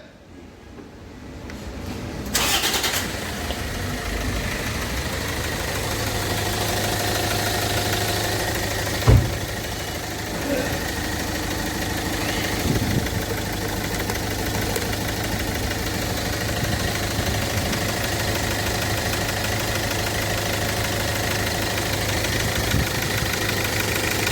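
A Toyota Auris car engine starts and settles into a steady, loud idle that runs for the whole stretch, with one brief knock partway through.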